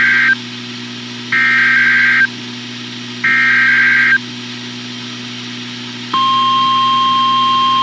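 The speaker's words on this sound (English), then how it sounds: "This is a test of the National Weather Service's radio warning tone alarm" A National Weather Service radio warning alarm test: three steady two-tone electronic beeps, each about a second long with pauses, then a long continuous high tone, loud over a low steady hum.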